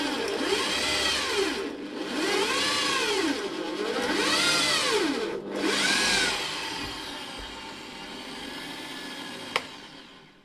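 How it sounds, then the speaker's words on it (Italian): A Parkside drill press turning a wood bit at 500 rpm into fir, its motor whine repeatedly sagging and recovering in pitch over several close, loud bites before settling to a steadier hum and fading. "Quindi abete, punta per legno, 500 giri."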